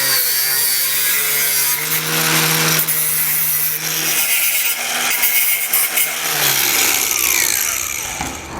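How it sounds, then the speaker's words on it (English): An angle grinder cuts through a thick steel bumper beam on a 2021 vehicle, a loud continuous abrasive whine with sustained tonal hum and shifting pitch as the disc bites, close up with no talk. "pretty thick steel, so I'm gonna use an angle grinder"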